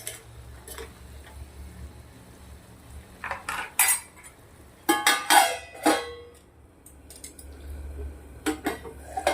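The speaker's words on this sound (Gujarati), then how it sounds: "હવે આપણે મિક્સ કરી દઈશું પાંચ મિનિટ સુધી ધીમા તાપ્યાને ચડવા દઈશું" Cucumber curry being mixed in a metal cooking pot, with a spoon clinking and scraping against the sides in irregular bursts, close and fairly loud, and no talking.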